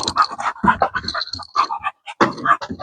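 A dog pants in quick, uneven bursts of breath while being handled and trained to accept a hand in its mouth, close and fairly loud, with short pauses between runs.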